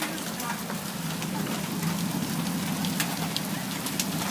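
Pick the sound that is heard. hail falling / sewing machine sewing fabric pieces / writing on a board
hail falling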